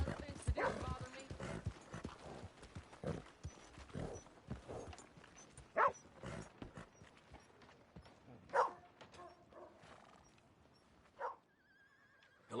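A horse in the Western open-world game Red Dead Redemption 2 whinnies and snorts amid scattered hoof clops, several sharp bursts spread over a quiet background while people talk intermittently.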